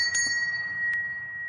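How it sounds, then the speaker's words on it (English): A single bell strikes near the start, its clear tone ringing on and sustaining steadily under a faint low background rumble, with a second soft strike just before the midpoint. "there's healing in the sound of the bell."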